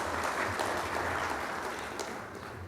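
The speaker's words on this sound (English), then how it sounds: "So I would like an applause for the teachers also here." Conference audience applauding the teachers at an inaugural session, a faint, steady wash of many hands clapping heard from a distance that tapers slightly toward the end.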